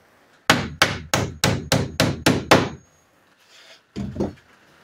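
A hammer drives nails into tongue-and-groove wooden ceiling boards: eight sharp, evenly spaced strikes in quick succession, then a pause and a couple of softer knocks, loud and close.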